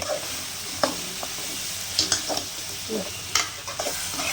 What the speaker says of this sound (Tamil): இது நல்லா வணங்கிட்ட தக்காளி வணங்கினதுக்கப்புறம் நம்ம பார்க்கலாம்